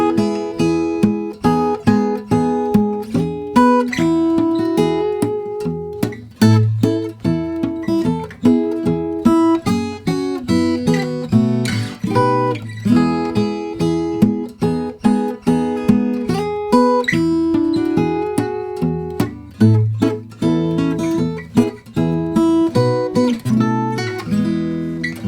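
Fingerstyle acoustic guitar plays the Jingle Bells chorus, with a steady plucked melody over bass notes and chords at a bouncy, even tempo, clear and close with no talking.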